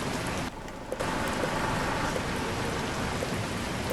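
Rain in the truck-driving video game Truck Simulator Ultimate, a steady dense hiss of rainfall with a brief dip in the noise early on, no voices over it.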